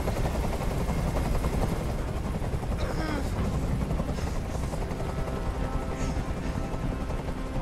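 Police helicopter hovering overhead during a rooftop hostage standoff in Detroit: Become Human, a continuous loud rotor chop throbbing steadily throughout, with brief voices and game sounds layered on top.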